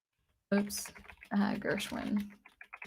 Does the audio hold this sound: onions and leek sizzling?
no